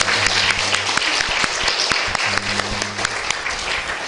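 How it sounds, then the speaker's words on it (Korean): A church congregation applauds to give glory to God during a worship service, with dense, steady clapping throughout and low sustained musical tones underneath. "하나님께 영광의 박수 올려드리겠습니다"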